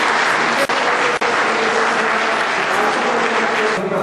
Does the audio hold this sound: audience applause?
yes